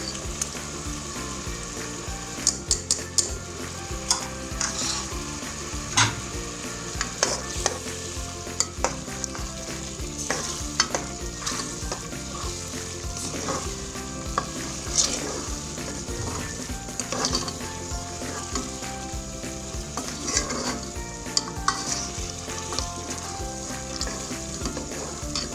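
Boiled fruit pieces stirred into hot sugar syrup for homemade tutti frutti, a continuous bubbling sizzle with frequent clinks and scrapes of a spoon against the pot, close and steady without talk.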